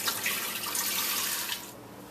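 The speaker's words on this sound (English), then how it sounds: "Now I'm going to put 5 cups of water." Five cups of water pour into a cooking pot for Tibetan thukpa noodle soup, a steady close splashing stream that cuts off near the end, with no talk.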